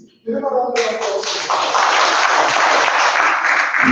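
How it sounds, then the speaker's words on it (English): Audience breaks into a loud, dense round of applause at a live show, swelling quickly after a brief voice and holding steady and close throughout. "Give him a round of applause."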